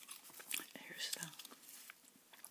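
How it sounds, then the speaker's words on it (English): Wrigley's Doublemint gum is chewed close to the microphone, giving soft wet smacks and clicks in an irregular rhythm under quiet whispering. "gum I'm chewing today, by the way. Wrigley's Double Mint chewing gum"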